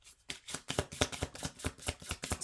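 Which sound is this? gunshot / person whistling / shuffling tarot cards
shuffling tarot cards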